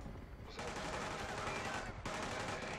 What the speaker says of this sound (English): What the hell are they shooting at?